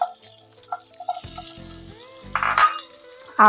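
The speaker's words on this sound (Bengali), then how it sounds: "তেলটা গরম হয়ে গেছে এবার এর মধ্যে দুটো মিডিয়াম সাইজের পেঁয়াজকে মোটা মোটা করে কেটে নিয়েছিলাম সেইটা দিয়ে দিলাম" Two medium onions, cut into thick slices, hit hot oil in a pan and fry with a bright, crackling sizzle that comes in short bursts and swells, followed by a louder burst near the end; nobody speaks.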